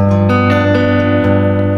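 A dominant seventh chord on guitar rings out with a rich, jazzy color, its notes sustaining steadily with a couple of soft restrikes, no voices present.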